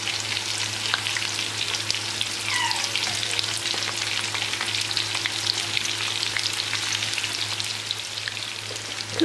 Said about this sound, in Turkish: Biraz bol yağda kızartmalısınız.